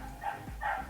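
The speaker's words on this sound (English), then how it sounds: "Someone's just come outside with a dog and it started barking." A dog outside a big block of flats gives two short, muffled barks in quick succession, distant and faint over low background rumble.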